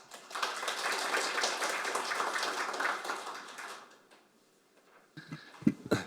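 Dense applause from a seminar audience on delayed war PTSD and veterans policy, welcoming a lawmaker to the podium; a full wash of clapping for about four seconds fades to silence before a voice begins.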